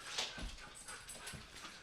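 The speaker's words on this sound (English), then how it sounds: "My dogs are locked outside, so they're saying hi." Dogs locked outside whimper and whine faintly at a distance, a few soft broken yelps and whines in quick succession.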